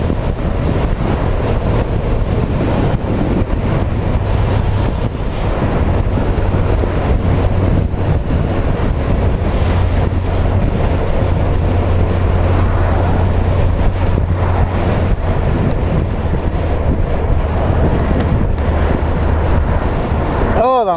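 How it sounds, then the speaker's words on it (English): Strong wind buffets a microphone outdoors in cold weather, a loud, constant rumbling roar that lasts throughout with no break. "Oh, that wind."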